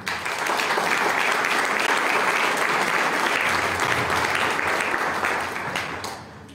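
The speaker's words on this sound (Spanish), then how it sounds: "para quien pido un fuerte aplauso." Sustained audience applause fills a tribute ceremony honoring former municipal officials in Tepeaca, holding dense and steady for about five seconds before tapering toward the end.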